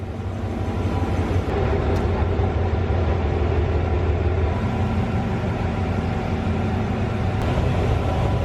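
A train idles at a Thai railway station on the line to Kanchanaburi, giving a steady, loud rumble of engine and rail noise that holds throughout, with no talking.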